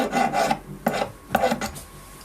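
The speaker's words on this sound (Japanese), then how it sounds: "表面を一度軽くヤスリをかけます。" Light hand filing across the surface of a ring being made, about four short rasping strokes in an uneven rhythm, close up and alone.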